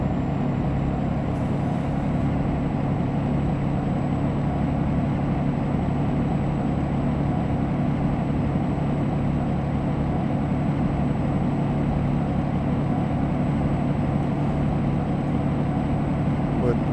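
DAF XD truck engine in Euro Truck Simulator 2, a loud constant low drone that holds steady throughout, with a faint high whine riding above it.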